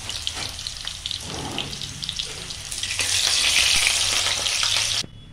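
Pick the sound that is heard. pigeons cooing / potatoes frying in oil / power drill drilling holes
potatoes frying in oil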